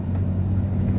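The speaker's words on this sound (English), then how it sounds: "And I do apologize for the noise. It's just that it's a big rig." Big rig truck cab interior while driving, a steady loud low engine drone and road rumble filling the whole moment, with no talk over it.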